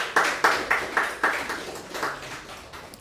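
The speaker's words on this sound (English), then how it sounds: "Please, a round of applause for them as they take their seats." An audience at a UI/UX hackathon claps for a presenting team, giving a short run of evenly spaced, collective claps that gradually fade.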